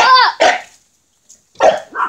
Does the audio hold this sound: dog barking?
yes